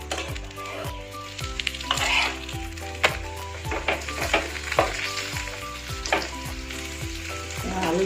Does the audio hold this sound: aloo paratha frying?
yes